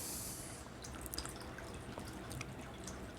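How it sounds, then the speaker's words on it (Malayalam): Water falling from a pump outlet into a tank, a faint continuous splashing and trickling with scattered drips, steady throughout and heard from a little distance. "വെള്ളം ഇവിടെ വീഴുന്നുണ്ടോ നോക്കാം നമുക്ക്."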